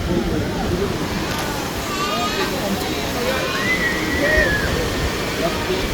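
Large sea waves crash and wash close by during sudden rain, a steady loud rush of churning water with excited voices calling out over it.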